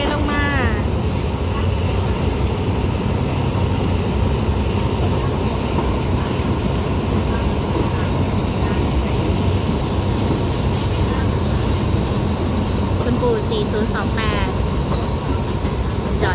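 Suburban train 391 rolls from Bangkok toward Chachoengsao, its carriage rumbling steadily with rhythmic wheel clatter and passing rail noise heard from inside, plus a brief high squeal near the end.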